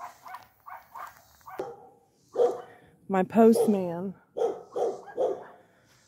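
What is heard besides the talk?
dog barking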